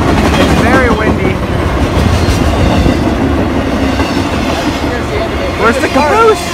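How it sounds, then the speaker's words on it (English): A train rumbles past close by, loud and continuous with clattering wheels, while someone talks over the noise. "And here's the train right here."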